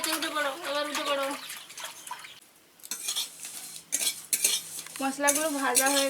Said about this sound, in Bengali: মশলাগুলো ভাজা হয়ে গেছে, এবার আমি নামিয়ে নিচ্ছি।